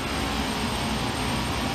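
A steady, loud engine roar from a home-cockpit flight simulator as power is advanced for takeoff, a dense continuous drone with no talk over it.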